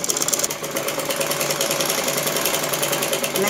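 Sewing machine stitching marked dots on the front part of a blouse, a steady fast mechanical whirring rattle that runs close and loud throughout with no pauses.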